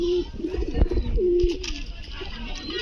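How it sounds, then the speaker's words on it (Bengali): A pair of lakkha fantail pigeons coos close by in a pigeon loft, with soft repeated warbling calls and faint background voices. "একজোড়া কবুতর, লক্ষা কবুতর, আমার ময়ূরপঙ্খী"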